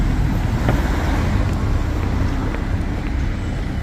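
Street traffic in Tokyo's Shibuya area, a loud continuous rumble of passing cars and engines close by, with a broad steady roar and no talk.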